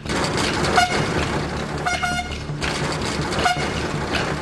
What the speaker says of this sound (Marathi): टँकरच्या हॉर्नचा ओळखीचा आवाज कानावर पडताच